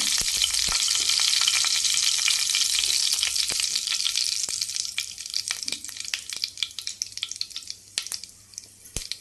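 Fennel and fenugreek seeds sputter in hot oil for a fish curry: a loud, steady sizzle packed with sharp crackling pops that gradually thin out and grow sparser.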